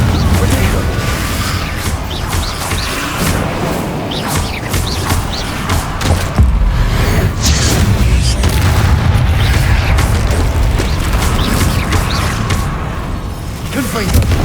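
Repeated fire-blast Confringo spell explosions in Hogwarts Legacy, booming bursts with heavy low rumble going off in quick succession amid dense combat noise, loud and close, with a voice shouting over them.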